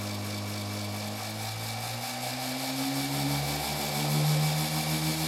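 Heins motor, an electric motor, running steadily at 725 RPM with a continuous tonal hum and harmonic whine that rises slightly in pitch partway through, close and alone.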